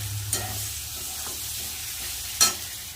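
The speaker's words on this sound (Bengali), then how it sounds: "জিরে গুঁড়ো ভালো করে মশলাটা কষিয়ে নেব" Spice paste with cumin powder frying in a pan, a steady low sizzle with two brief louder scrapes of stirring, no voices.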